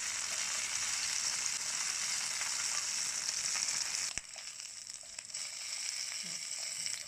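A shrimp-stuffed bell pepper pan-fries in oil, giving a loud steady sizzle that drops slightly after a brief clunk midway and then continues more softly.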